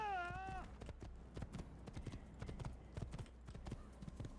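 Horse hooves clip-clop at a steady trot in the Assassin's Creed video game, rhythmic and fairly close, after a brief whinny at the start, with no talk over them.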